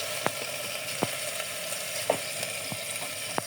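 Boiled chicken pieces fry in a pan outdoors beside a river, giving a steady hiss with occasional sharp pops and ticks, close and fairly loud, with no talking.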